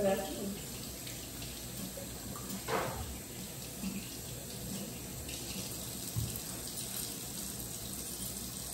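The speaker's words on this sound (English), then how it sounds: "I like to wash my hands." Hands being washed under a running tap while making Liberian-style rice bread. A steady splash of flowing water runs throughout with a few louder bursts, close and moderately quiet, and no one speaks.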